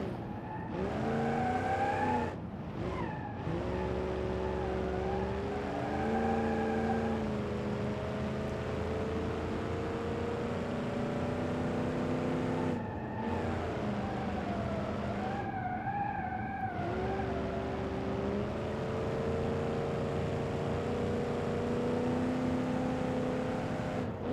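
In BeamNG.drive, a car engine pulls hard in high gear, a loud sustained drone whose pitch climbs and levels off, broken by a few short gaps as it keeps running for over twenty seconds.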